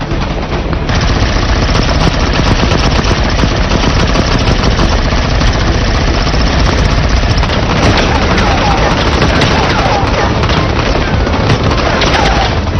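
Sustained, loud machine-gun fire and rapid gunshots in a Pashto TV drama battle scene, with shots aimed at rooftops; the dense volley rattles on without pause, with muffled shouting beneath it.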